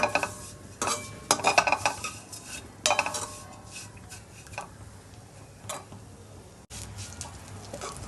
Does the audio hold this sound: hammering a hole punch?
no